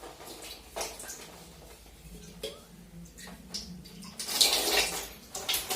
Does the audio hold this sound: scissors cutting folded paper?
no